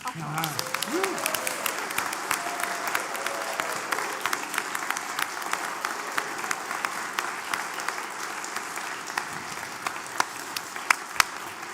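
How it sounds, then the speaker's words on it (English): A church congregation applauds its newest members, steady dense clapping filling the room for the whole stretch, with a voice briefly audible near the start. "As we welcome these newest members of our community, applause is appropriate."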